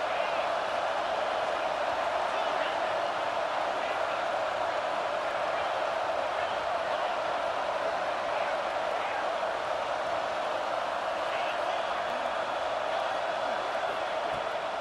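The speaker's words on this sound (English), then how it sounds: "Decibels rising as the crowd gets behind this defense on third down." A stadium crowd at a college football game, Vanderbilt, roars steadily as the defense lines up on third down, a continuous loud wash of noise that never lets up.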